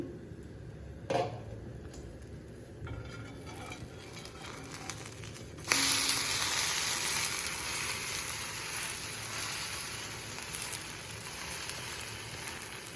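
Poha uthappam sizzles in oil under a lid in a home kitchen. After a faint start and a brief clatter, a steady hissing sizzle sets in and carries on evenly to the end.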